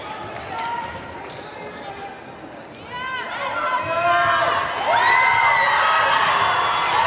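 Crowd in a gym at a Wakefield girls varsity volleyball match against Wilmington, cheering and shouting loud and close, swelling in the second half, with ball bounces and chatter mixed in.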